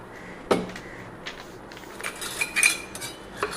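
A small 1.5-litre brass milk can handled up close, giving a sharp metallic knock, then a string of light clinks and rattles as it is moved about.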